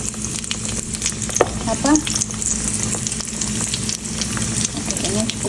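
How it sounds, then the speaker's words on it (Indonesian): Arancini rice balls coated in egg deep frying in hot oil, a steady loud sizzle and bubbling that holds throughout, with a brief word spoken over it. "kita goreng sampai dengan kecoklatan di luarnya ya"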